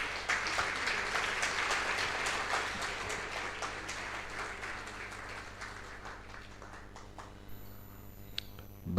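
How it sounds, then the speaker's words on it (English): A crowd claps steadily for several seconds, the applause fading gradually toward the end. "Can we give her a big, big round of applause?"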